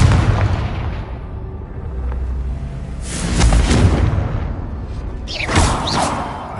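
A Confringo fire spell explodes in the Hogwarts Legacy video game, heard as a loud, deep boom rolling over a busy combat soundscape, with a second burst following shortly after.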